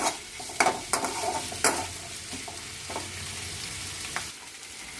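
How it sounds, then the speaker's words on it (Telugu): Onions fry in oil in a kadai for chicken fry, a bright close sizzle broken by repeated stirring scrapes and clinks of a spoon against the pan, with no talking. "కళాయిలో నూనె వేసి ఉల్లిపాయలు వేసి ఫ్రై చేసుకుంటున్నాము."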